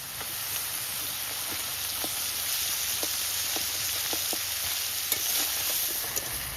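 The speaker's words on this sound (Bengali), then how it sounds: "মাছ ভাজা হয়ে গেছে এর মাঝখানেই এই আদা রসুন বাটাটা দিয়ে দেবো" Ginger-garlic paste sizzling in hot oil alongside freshly fried freshwater prawns, with a steady close hiss and crackle and repeated scraping stirs of a spatula in the pan throughout, no talking.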